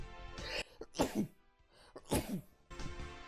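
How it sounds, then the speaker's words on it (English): A person sneezes twice up close, each a sharp breathy burst with a short inhale before it, followed by faint rustling. "So I may sneeze a bit more than normal today"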